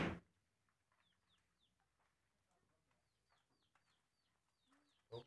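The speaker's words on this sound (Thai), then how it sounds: "ไก่ตีมีหลายตัว" Several gamecocks kept on a rural Thai village homestead, heard as scattered, fairly faint crowing and clucking calls spread across the stretch, with a louder burst at the start and end.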